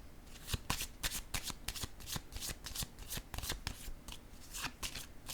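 Tarot cards riffled, snapped and laid down on a table in a reading, a rapid irregular run of crisp papery flicks and slaps, close and fairly quiet.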